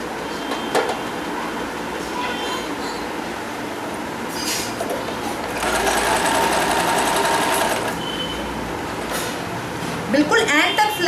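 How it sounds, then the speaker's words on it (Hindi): Sewing machine stitching the middle seam of a small cloth dhoti for a Krishna or Ram deity: a continuous fast mechanical whirr that grows louder midway, heard close up with speech over it. "अब मैं इन दोनों को पकड़ के यहाँ बीच में से सिलाई लगाऊंगी।"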